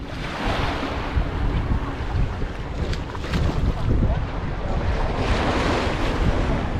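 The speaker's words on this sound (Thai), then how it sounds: "ลมแรงมากใกล้เกาะตรงเนี้ยลมแรงแรง" Strong wind roars steadily across the microphone while sailing near an island off Ko Yo in Thailand, with surf and waves washing around the boat throughout.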